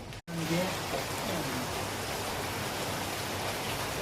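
Rain pours down steadily in a town in Tamil Nadu, an even, close hiss that fills the whole stretch after a brief dropout at the start, with a faint voice beneath.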